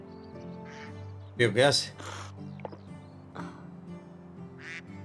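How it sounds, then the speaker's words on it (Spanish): A duck quacks in the medieval farming game Medieval Dynasty. A short burst of loud, rapid quacks comes over a steady in-game music bed, with someone talking briefly before and after. "Pato, mira, pato como nada."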